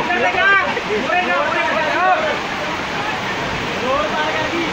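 Heavy rainfall in Nalagarh with rushing, gurgling runoff water makes a loud, continuous roar close by, while voices murmur faintly underneath.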